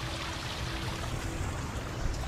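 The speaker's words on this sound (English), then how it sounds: "Nice waterfall." Steady rushing of falling water from a waterfall, a continuous broadband wash with faint trickling detail, close and even throughout with no talk.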